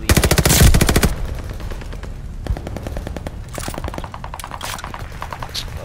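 Automatic gunfire in the video game Call of Duty Vanguard: a loud sustained burst of rapid shots at the start, then more scattered bursts and single shots further off, with no talking.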